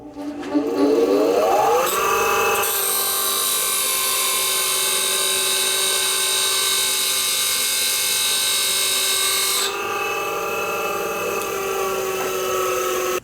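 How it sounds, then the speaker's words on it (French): A bench grinder with a steel chisel held to the wheel, a loud, steady high-pitched whine that holds for several seconds and then eases slightly as contact lets up, close by with no talk. "Il y a un autre outil qui peut être aussi dangereux suivant les aciers, c'est le touret."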